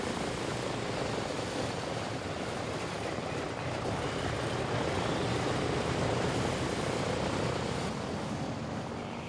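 Steady, dense drone of a B-17 Flying Fortress bomber's piston engines and propellers, continuous and fairly loud throughout with no voices.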